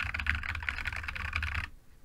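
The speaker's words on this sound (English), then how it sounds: "just in my you know 100 well 98 word per minute typing there" Fast, continuous clacking from a GammaKay LK67 mechanical keyboard typed at speed with keys pressed firmly, close and crisp, stopping abruptly just before the end.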